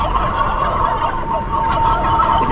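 Turkeys gobbling over a radio station broadcast in Pennsylvania, a loud, continuous chorus of gobbles and fowl calls with a thin, band-limited broadcast quality throughout.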